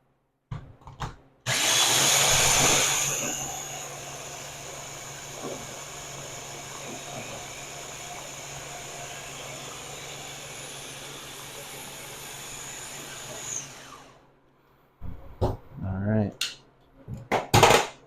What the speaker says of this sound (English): make sure our blender is fitted just right